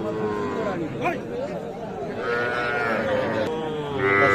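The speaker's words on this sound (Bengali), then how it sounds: "এই যে আটশোটা ষাঁড় বাচ্চা" Young bull calves and heifer calves at the Aftabganj cattle market give drawn-out bleating calls, close and fairly loud amid a busy crowd, with people talking throughout.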